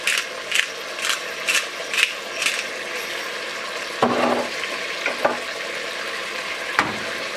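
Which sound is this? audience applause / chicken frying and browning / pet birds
chicken frying and browning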